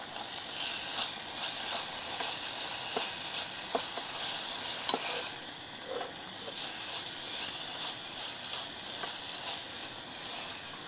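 Food frying in a pan over a camp stove with turmeric and salt added, a steady close sizzle with occasional stirring clicks and scrapes, running throughout with no talk.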